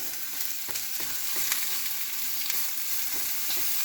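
Beef meatballs sear in a frying pan with a dense, constant sizzle, broken by a few sharp ticks of stirring or turning, close up and with no voices.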